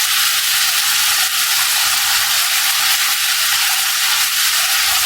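Pieces of chicken fry with golden-brown garlic in a pan, making a loud, steady, close sizzle and hiss with no voices over it.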